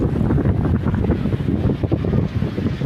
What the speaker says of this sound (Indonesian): Kita menghayati kemahaan Allah Ta'ala bersamaan dengan adanya debur ombak dan angin yang berhembus kencang